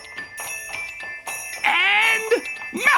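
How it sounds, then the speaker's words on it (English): Bright jingle bells tinkle in bursts in a Christmas advertisement, mixed with squeaky high-pitched cartoon-like voices, close and lively. "Dasher, give me some jingle bells."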